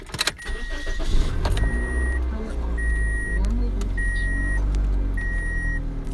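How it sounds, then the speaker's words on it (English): A car engine cranks and starts, then settles into a steady low idle close by, with a repeating chime beeping at regular intervals over the engine and no one talking. "I gotta turn my car on so I get power to the plug"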